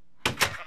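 A Minecraft sheep gives a short, clear bleat after a moment of silence, a single close blocky baa with a brief wavering tail.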